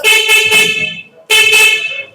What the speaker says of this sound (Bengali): এই যে হর্ন বাজাইলাম দেখলেন এই হর্নটা কিন্তু একটা হর্ন বাজে নাই এখানে দুই দুইটা হর্ন বেজেছে